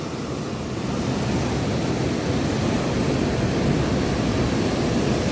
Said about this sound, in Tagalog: How nice this morning. Lakas ang alon.